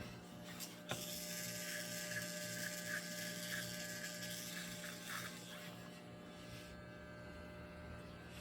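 Electric hair clipper trimming a full beard along the neckline and jaw, a steady close mechanical buzz with faint rattling texture running the whole time, no talking.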